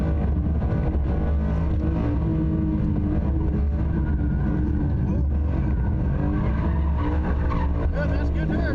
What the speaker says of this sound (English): And that's when we start drifting again.